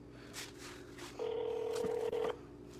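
A telephone number is punched in on a keypad, a few short tones followed by one long steady tone with a brief break near its end, clear and close over faint room noise.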